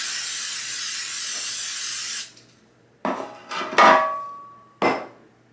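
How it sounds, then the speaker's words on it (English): Palm oil cooking spray is misted onto a baking pan as a steady, close hiss lasting about two seconds, followed by several short clatters and knocks as the pan is handled and set aside. "I'm gonna go ahead with some palm spray and spray my pan"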